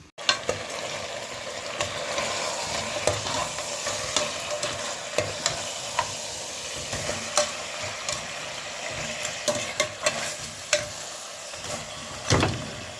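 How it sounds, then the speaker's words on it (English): Oxtail is stir fried in a pot, with a continuous sizzle broken by repeated sharp scraping and knocking strokes from a spoon against the pot at close range, and no speech. "you go and stir fry for around 15 minutes"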